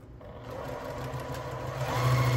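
Domestic sewing machine stitching quilt block squares, a steady continuous whir that runs close and fairly loud throughout, rising slightly in intensity toward the end, with no talk over it.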